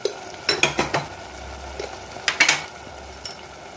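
Mashed tomatoes sauté in a pan, a soft sizzle under a few sharp, separate spoon scrapes and clinks in short bursts nearby.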